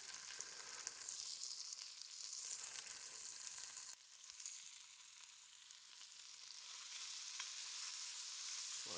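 Onion sizzling in butter in a pot for potato soup, a steady, bright hiss of frying that continues throughout with a brief dip midway, quiet and close, with no talking.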